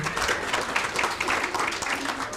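An audience at a Kenyan AI labour town hall claps for a speaker, a moderate, fairly even burst of hand clapping that runs throughout, a little distant in the room.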